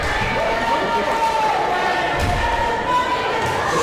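A women's college volleyball match between Justice University and Park University, with a steady crowd roar and cheering filling the gym, loud and continuous, plus scattered thuds and some voices in the mix.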